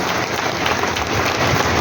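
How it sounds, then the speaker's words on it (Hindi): A seminar audience applauds loudly, a dense, steady wash of many hands clapping at once with no pauses, close and sustained throughout. "ताली जोरदार बजा दीजिए"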